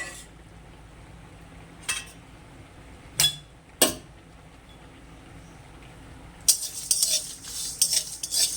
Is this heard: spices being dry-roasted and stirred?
yes